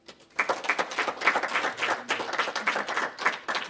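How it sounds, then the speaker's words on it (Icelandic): An audience claps together at the end of a lunchtime presentation on foreign tourists in Iceland. The applause is dense and steady, rising quickly and holding for several seconds. "Kannski klappu fyrir þeim í lokin"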